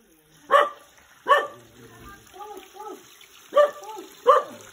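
A village dog in Simpang Pining barks in four loud, sharp bursts spaced about a second apart, with softer yelps and whines between them and faint water noise beneath.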